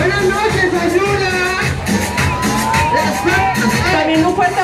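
A carnival comparsa parade crowd in Sayula, Jalisco, shouting and cheering in a dense, loud roar of many voices with whoops and yells throughout.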